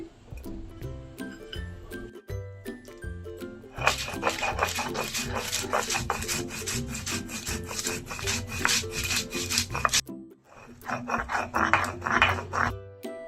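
Cumin and coriander seeds ground by hand on a stone slab with a grinding stone, rhythmic gritty rasping strokes close by, steady back-and-forth scraping with a brief pause before resuming.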